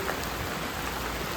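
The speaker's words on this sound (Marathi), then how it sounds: "नेमका पाऊस भरलेला होता, तर पाऊस आला" Steady rain pours down in Ratnagiri on the Konkan coast, a dense, even hiss of drops striking surfaces that stays constant and fairly close throughout, with no voices.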